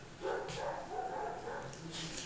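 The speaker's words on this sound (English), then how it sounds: "You will hear the dogs bark. I've got lovely dogs that protect us on the farm here" Farm dogs barking, several faint short barks scattered across a quiet background, distant and soft.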